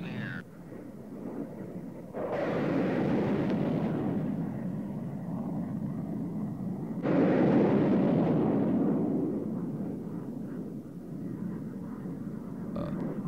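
Phoenix missiles launching from an F-14 Tomcat during a test, with two loud, roaring rushes that swell and slowly fade, each lasting several seconds.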